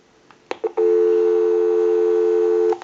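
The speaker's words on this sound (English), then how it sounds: "So we'll go ahead and give you some dial tone." A steady dial tone sounds on the line of a rotary desk telephone under repair, coming in after a few clicks and holding loud and even for about two seconds before cutting off.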